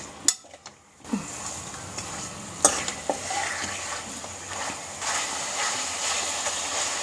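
Chicken for Kolhapuri sukka chicken is stirred in a pan over a high gas flame: a quiet, steady sizzle under a few sharp clicks and scrapes of the spoon against the pan.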